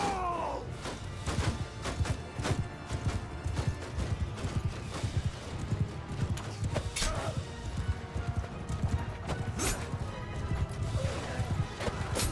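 Cavalry horses galloping into battle in Mount & Blade II Bannerlord, a dense, continuous patter of pounding hooves with scattered crashes and thuds of combat, moderately loud throughout.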